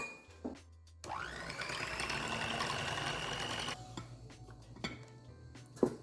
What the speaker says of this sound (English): let's get the blender and start blending these egg whites until we get nice stiff peaks